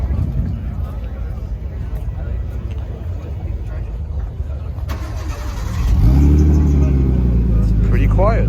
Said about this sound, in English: Oh, let's hear that startup.